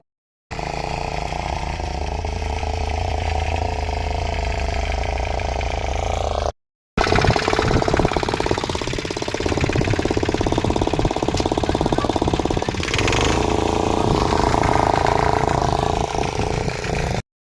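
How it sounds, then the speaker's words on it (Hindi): A tractor engine runs steadily in a hillside farm field in Uttarakhand, a loud continuous rattling drone with a brief cut, then carrying on with harsh mechanical knocking. "तो ट्रैक्टर का काफ़ी ज़्यादा शोर हो रहा है।"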